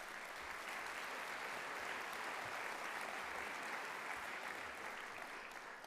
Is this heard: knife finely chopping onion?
no